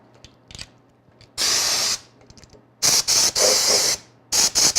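A Harbor Freight 3-gallon 100 PSI air compressor feeds an air blow gun spraying at about 60 psi, giving loud hissing bursts: one long blast, then several choppy bursts and a final series of short ones, with no talk.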